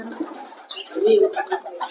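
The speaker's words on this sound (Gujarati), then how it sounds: "મસ્ત મજાનો કબૂતર છે બે કબૂતર છે" Soft, low cooing of pigeons close by, a couple of throaty calls rising in the middle with faint rustling around them.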